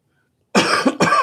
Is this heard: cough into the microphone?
yes